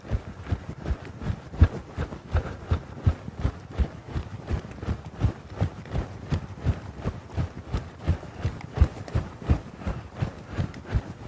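Steady rhythmic clip-clop of horse hooves moving around an arena near the rail, continuous dull thuds at an even pace, close and clear, with no talk.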